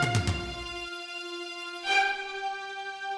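A Dragon Ball Z anime scene transition sound effect plays alone: a brief low burst opens into a sustained bright harmonic tone, then a second shimmering swell near the two-second mark that rings on to the end.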